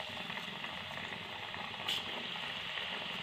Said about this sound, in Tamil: நீ அரைச்சி வச்ச கடலைப்பருப்பு இருக்கு பாருங்க, அதை சுட்டு எடுத்துக்கலாங்க